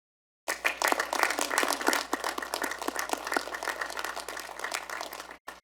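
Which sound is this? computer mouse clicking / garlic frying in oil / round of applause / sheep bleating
round of applause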